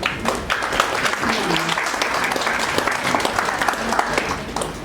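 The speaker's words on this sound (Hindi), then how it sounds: "आपको ताली बजानी चाहिए।" Applause from the audience at an awards ceremony honouring health workers: steady, dense clapping fills the whole stretch at moderate loudness, with no talk over it.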